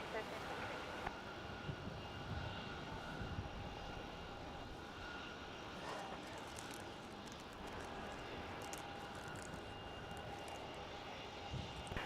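A passenger aircraft's engines drone steadily at Melbourne Airport as it is cleared for takeoff from runway 16, a broad roar heard from a distance throughout, with radio voices talking over it.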